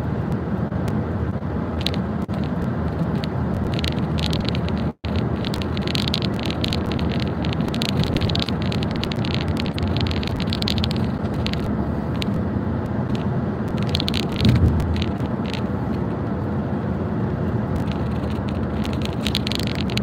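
Steady rain drumming on a truck's roof and windshield, heard from inside the cab as a continuous broadband hiss with a brief sharp knock near the middle.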